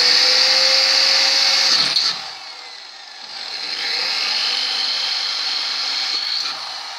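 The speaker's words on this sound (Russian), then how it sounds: "засверливаем обязательно кончики всех трещин" Power drill boring into the ends of cracks in a Peugeot engine's aluminium oil pan before TIG welding, a loud close whine that dips for about a second, then runs steadily again.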